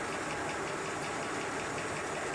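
A Sweet Pea locomotive engine built in 1987 runs on compressed air while sitting on a rolling road, giving a continuous, steady, close mechanical rush with constant loudness throughout.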